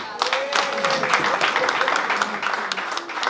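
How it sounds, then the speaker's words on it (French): Applause at a birthday party for Papa Michel in Granby, honoring Maman Frézy: steady clapping from a gathered group, fairly close, with voices mixed in throughout. "Est-ce qu'on peut applaudir pour elle?"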